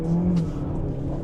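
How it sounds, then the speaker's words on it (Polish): Alfa Romeo Tonale turbocharged engine pulls under acceleration and shifts up a gear, a steady close engine drone with a brief pitch drop, no talking. "I pyk, kolejny bieg."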